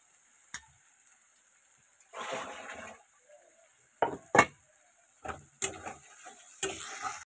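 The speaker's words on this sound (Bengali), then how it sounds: "মশলাটা অনেকটা টাইম ধরে একটু কষাতে হবে।" Spices fry in oil in a pan for a Bengali vegetarian dish cooked without onion or garlic, with asafoetida added. Bursts of sizzle and scraping stirs come in short separate strokes against a quiet background, with a few sharp clinks of the utensil.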